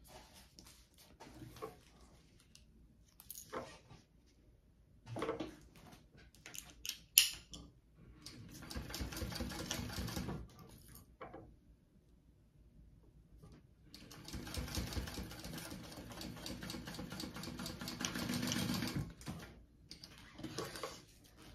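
Sewing machine stitching along the side of a handmade project in bursts of rapid mechanical whirring, separated by quiet pauses and small handling clicks, fairly close and moderately loud.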